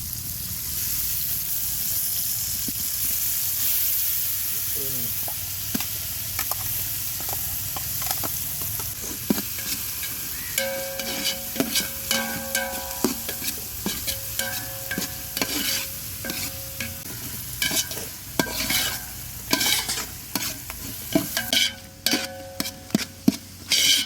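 Onion, tomato, ginger paste, coriander and mint frying in oil for chicken biryani, a continuous close sizzle with frequent scraping and clinking of a spoon against the pot, the stirring growing busier toward the end, no talking.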